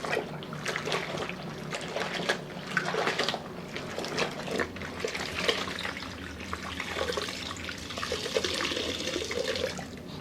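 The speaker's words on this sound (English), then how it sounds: "As usual, I'll go over the floor twice, rinsing the mop out between first and second round." A floor being mopped with extra hot water and Pinalen Floral Delight cleaner, with close sloshing, dripping and wet mop strokes in an irregular rhythm, and no talking.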